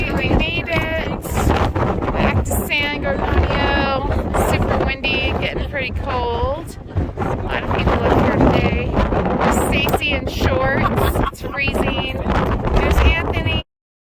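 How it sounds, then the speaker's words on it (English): Strong wind buffets the microphone on the San Gorgonio mountain summit, a loud, continuous roar with gusty bursts, while people talk over it. "it's getting really windy up here"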